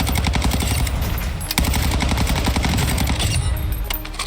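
A Cronin Squall assault rifle firing in Warzone 2.0, with loud, rapid continuous automatic bursts and a brief break around the middle, no voices.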